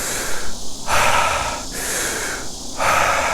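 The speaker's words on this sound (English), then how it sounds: "I like to stack in some breath work." Forceful rhythmic breathing exercise in the style of Wim Hof or Tumo breath work, loud close inhales and exhales alternating in strong bursts with no talking.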